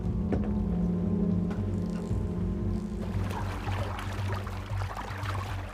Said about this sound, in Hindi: मैं सड़े हुए चारे को पानी में डालकर हिला रहा हूं